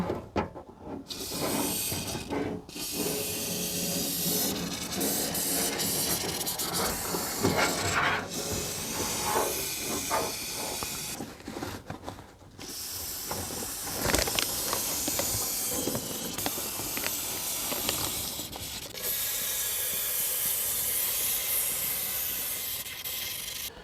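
Bursts of loud hissing spray from an aerosol can of lubricant come in several long pulses separated by brief pauses, close and harsh, with faint rubbing noises between them.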